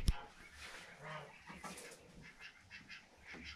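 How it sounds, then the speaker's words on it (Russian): Laying hens and a rooster cluck and murmur softly in a pen, scattered low calls over quiet background rustle, fairly faint and without speech. "Взяли, короче, вот таких кур,"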